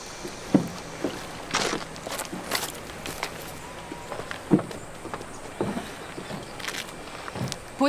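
A boat moves on water in a drama scene, with irregular knocks and splashy thumps spaced a second or so apart over a low, steady background. The sound is moderately close, with no talking.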